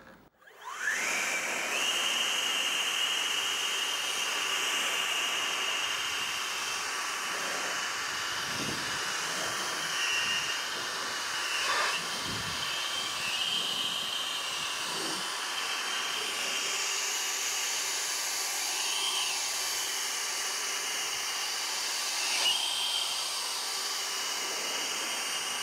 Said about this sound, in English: stubby nozzle, EGO, blower band combination